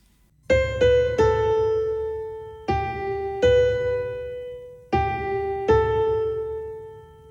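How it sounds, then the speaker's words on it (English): Plucked notes ring out in short groups, each struck then allowed to sustain and decay, with longer held tones between clusters of attacks; no voices. "playing tied notes should sound like this"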